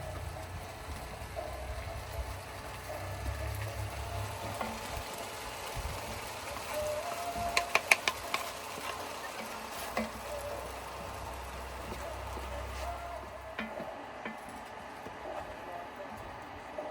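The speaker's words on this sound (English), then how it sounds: "they're sizzling and getting really loud now" Broccoli and butter bean soup ingredients sizzle in a pot with a soft, continuous crackling hiss. It sits under a speaking voice and background music, with a few brief clinks partway through.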